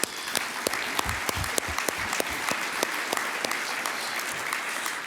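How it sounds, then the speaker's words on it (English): An audience at an awards and recognition dinner applauds steadily, a dense, continuous wash of many hands clapping that holds at an even level throughout, with no talking. "Let's give them a round of applause"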